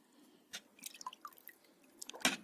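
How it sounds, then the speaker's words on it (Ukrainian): Wet dripping and squishing of brush cutter carburetor parts being rinsed in water to remove citric acid, with scattered small splashes and one louder splash near the end, no voices. "перемиваю їх просто в воді, щоб не залишилося лимонної тут кислоти"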